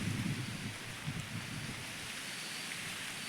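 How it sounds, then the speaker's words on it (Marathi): Light drizzle falling over waterlogged maize and cotton fields in a green hilly village, a faint, soft, steady patter with some low rumble at the start and no voices. "अजून पण रिमझिम चालू आहे"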